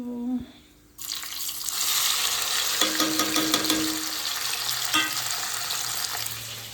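Chopped onion dropped into hot oil with cumin seeds in a pan bursts into a loud, steady sizzle after a quiet start, with occasional stirring clinks over the continuous frying hiss.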